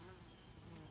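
Bees buzzing around a Layens hive on a warm autumn afternoon, a dense, continuous drone of many insects filling the brief moment, faint and steady with no talking.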